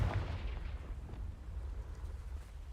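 A Confringo spell explosion in a Harry Potter video game, a deep rumbling boom that hits hard at the start and then rolls on as a sustained low roar, loud and close.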